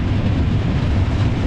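An Indian train on the Shalimar to Puri run nears Santragachi Junction, giving off a continuous low, rumbling roar from inside the carriage with no talking.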